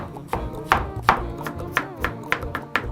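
A kitchen knife chops an onion into rough pieces on a board, about eight sharp, close thuds at a steady, unhurried rhythm, with no talking.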